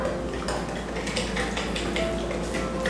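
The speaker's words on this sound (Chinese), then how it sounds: "我们呢可以改用这个搅拌棒来搅" Snow skin matcha mooncake batter with vegetable oil is stirred in a bowl with a stirring stick, making rapid, repeated clinks and scrapes close up.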